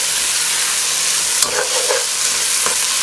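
Marinated mutton sizzles and fries in a hot pan for mutton biryani, a steady bright hiss with occasional scraping stirs and clinks of the spoon, close and continuous with no voices.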